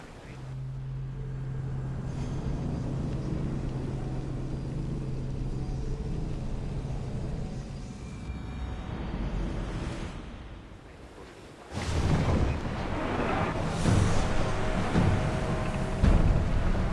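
A ship sailing at speed in Assassin's Creed Odyssey, a steady rush of wind and water with a low engine-like drone, then a louder burst of splashing and wind as the pace picks up near the end.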